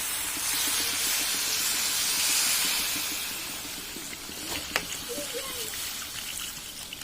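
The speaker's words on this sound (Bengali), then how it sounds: "এবারে আমি দিয়ে দিচ্ছি এর মধ্যে জল" Water pours into a pot of braised, spice-fried meat, a broad steamy hiss with trickling noise that swells then eases, ending in a few faint clinks, with no one talking.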